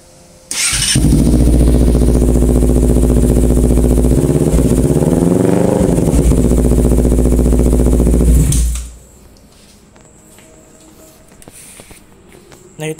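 A Honda CBR250RR motorcycle fitted with a Proliner TR1 short exhaust starts up and revs hard, giving a loud, booming, sustained roar with a rising and falling pitch sweep midway, then cuts off abruptly into quiet background.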